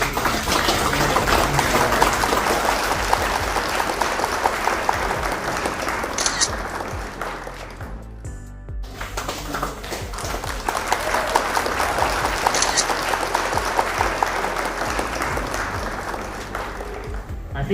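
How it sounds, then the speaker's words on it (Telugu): Sustained crowd applause at an office retirement function, dense and loud, lasting many seconds with a brief lull midway before clapping swells again; voices may be faintly present beneath it. "క్లాప్ కూడా కొట్టాలని కోరుకుంటున్నాను"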